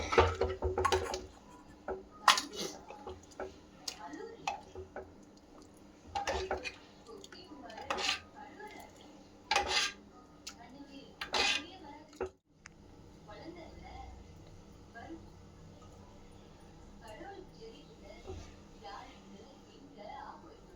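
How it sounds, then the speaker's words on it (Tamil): A curry of goat head meat is scooped from a pressure cooker into a bowl, with repeated clinks and scrapes of metal utensils against steel pots, loud at first and then softer, under a speaker talking. "குக்கர் மூடியை எடுத்துட்டு பவுலில் மாற்றிக்கலாம்."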